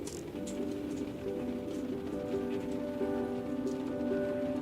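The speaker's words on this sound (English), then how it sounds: "gives me a superb view of Paris in a downpour." Heavy rain pours steadily over Paris, a dense, continuous hiss of a downpour with faint tonal hum beneath and no voices.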